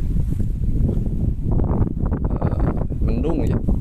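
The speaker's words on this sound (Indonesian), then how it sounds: "kondisi angin lumayan kencang" Strong wind at the end of a toll road bridge exit in Parungkuda on an overcast day after rain, a loud, steady rushing roar buffeting the microphone throughout.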